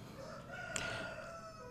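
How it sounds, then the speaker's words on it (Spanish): A rooster crows faintly and at a distance, a drawn-out call over quiet, steady background noise. "Y sigue el gallo."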